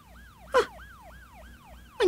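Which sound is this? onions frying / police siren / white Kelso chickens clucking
police siren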